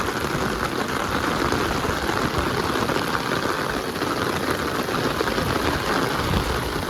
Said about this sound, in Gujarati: ધોધમાર ફૂલ વરસાદ આવે છે।